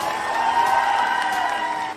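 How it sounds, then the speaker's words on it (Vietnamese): A studio audience at a Vietnamese televised singing show claps and cheers in a steady, dense wash that holds for about two seconds, easing slightly at the very end. "Một tràng vỗ tay cho Trấn Thành."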